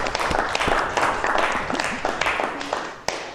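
Clapping from a small group of dinner guests at a home meal in Chambéry welcoming a first course of tartiflette croquettes, uneven claps mixed with voices and chatter.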